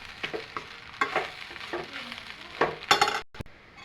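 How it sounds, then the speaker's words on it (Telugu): Uggani being mixed in a pan, with repeated spatula scrapes and stirring strokes over a low sizzle, close and fairly loud. "ఇప్పుడు మొత్తం కూడా ఒకసారి కలుపుకుందాము."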